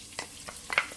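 Diced garlic for loaded cauliflower soup cooks in a pot, a soft sizzle broken by a few quick stirring scrapes and clinks within a single second.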